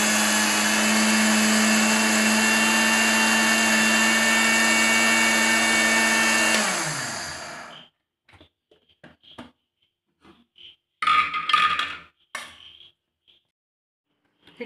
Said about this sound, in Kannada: ಮಿಕ್ಸಿಗೆ ಹಾಕ್ತಾ ಇದ್ದಲ್ಲಿ ನೋಡಿ,